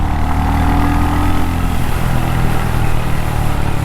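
A Royal Enfield HNTR 350 motorcycle pulls under throttle while being ridden, its engine droning loud and steady with a rising rev note and constant rushing wind noise.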